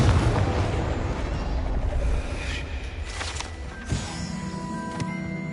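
A Confringo blasting spell in Hogwarts Legacy erupts as a loud, rumbling explosion that dominates the opening seconds, then decays into a lingering roar with a few sharp pops and ringing tones near the end.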